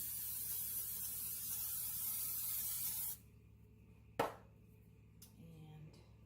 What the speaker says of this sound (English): Let's give these a little quick spray with the coconut oil.